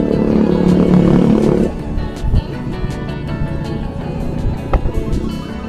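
A motorcycle roars past close by on a road near rice fields, its loud engine hum dropping away after a couple of seconds, followed by softer rumbles and wind of passing traffic.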